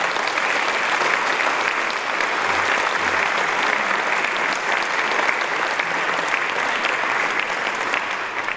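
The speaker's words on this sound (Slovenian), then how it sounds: "vidim, da ljudje z ministrstva tudi ploskajo" Sustained audience applause fills a hall at a school's 70th anniversary celebration, a steady dense clapping from many hands that continues evenly throughout.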